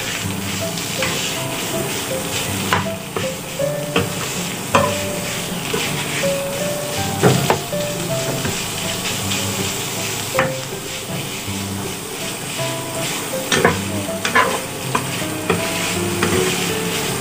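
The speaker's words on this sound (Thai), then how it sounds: "ครับก็เอาหมูไปลวนนะคร ับหมูลงไปหมูลงไปลวนเลย" Minced pork stir-fries in a wok with a loud, continuous sizzle close by, punctuated by regular scraping and clanking of the spatula as the meat is tossed.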